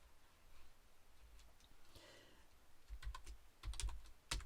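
Keys tap on a computer keyboard in a few quiet bursts as a password is entered, with soft scattered clicks and faster clusters toward the end.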